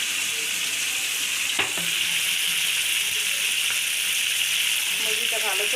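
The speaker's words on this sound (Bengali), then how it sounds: "মুরগিটা ভালো করে ভেজে নিচ্ছি।" Chicken fries in a wok with a constant, loud hissing sizzle close by, with an occasional faint clink of a utensil against the pan.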